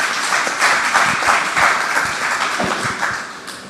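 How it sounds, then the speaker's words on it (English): Audience applause at the AIF2025 official opening ceremony: a dense, steady wash of many hands clapping together, fairly loud and close, tapering slightly toward the end with no voices over it. "So let's applaud."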